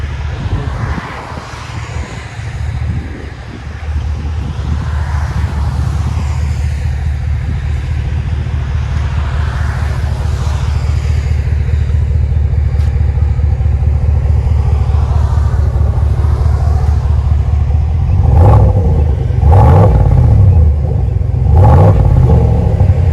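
A 2019 GMC Sierra 6.2L V8 with a dual Flowmaster Flow FX exhaust drones steadily as it drives, heard from inside the cab, building louder with deeper rumbling surges toward the end.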